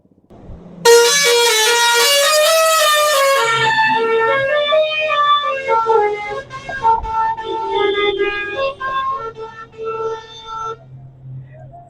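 Loud, close musical truck horns blare a long melodic sequence of rising and falling tones, continuing for several seconds before trailing off.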